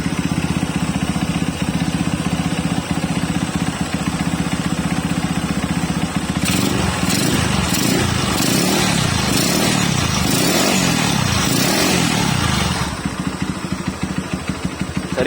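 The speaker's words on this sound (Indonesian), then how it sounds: "Oke, motor udah nyala." A Suzuki Scorpio motorcycle engine, fitted with an oil cooler, idles steadily and close by, a low rhythmic chug that swells into louder revving and clatter midway before settling back to idle.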